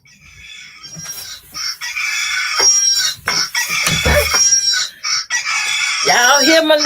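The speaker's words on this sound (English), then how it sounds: "This phone is gonna drive me crazy. It's just cock-a-doodling down." A phone ringtone of a rooster crowing and clucking plays loudly and repeatedly, close up, with overlapping crow calls and cackles and a brief gap before another long crow.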